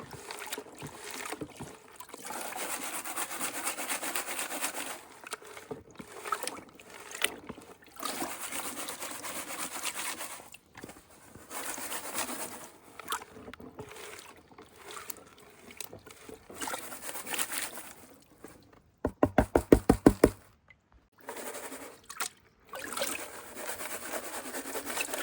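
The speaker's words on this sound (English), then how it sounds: "So let's pan this out, because this is going to be good" Gold paydirt being panned in water: steady sloshing, swirling water and gravel rubbing in a pan, close and continuous, with a few brief pauses and a burst of sharper knocks near the end.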